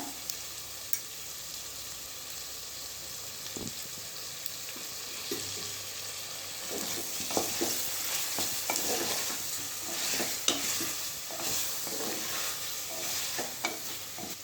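Ginger garlic paste sizzles with sautéed onions in a hot pan for a Tamil chicken roast. A steady frying hiss runs under repeated scraping stirs of a spoon, with no voices.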